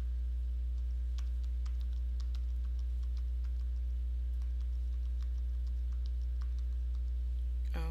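Light, scattered keystrokes on an attached keyboard used with a tablet note-taking app, faint irregular taps over a steady low hum.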